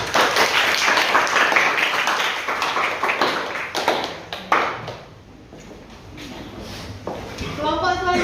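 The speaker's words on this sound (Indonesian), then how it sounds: "Terima kasih, tepuk tangan." An audience claps after a classroom group presentation, a burst of scattered close hand claps that fades after a few seconds, with a voice talking during and after.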